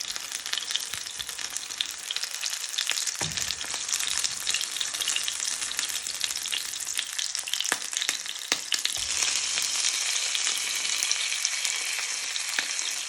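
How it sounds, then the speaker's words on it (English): Buttermilk-battered steaks fry steadily in a pan of hot oil, a loud, continuous close-up crackling sizzle with a brief clatter as more pieces go in, no talking. "Now you want to place the rest of your steaks in the pan, carefully."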